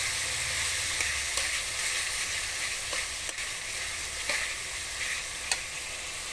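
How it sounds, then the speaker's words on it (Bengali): Chicken fried rice ingredients are stir-fried together in a pan in Chinese restaurant style, a loud continuous sizzle punctuated by regular scraping strokes of the spatula roughly every second. "আমি নেড়ে নেব এখন সব কিছু একসঙ্গে এক মিনিটের মতো আমি নেড়ে নেবো"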